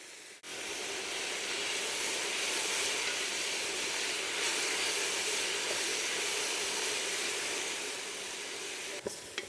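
Aromatics, herbs and spices cook in a pot for vegetable stock, giving a steady, moderately faint sizzling hiss that holds evenly for several seconds after a quick start and then cuts off.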